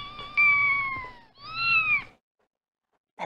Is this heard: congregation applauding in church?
no